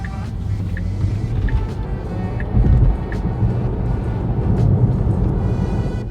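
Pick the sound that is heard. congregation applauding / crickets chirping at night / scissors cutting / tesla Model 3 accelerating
tesla Model 3 accelerating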